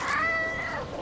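A single drawn-out cat meow, close and fairly clear, rising and then falling over about a second.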